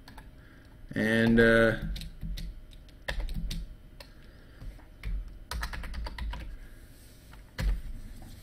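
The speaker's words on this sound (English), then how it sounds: "I'm going to type this out so you can kind of see it." Typing on a computer keyboard, a scattering of light key clicks running through the clip under and between a voice.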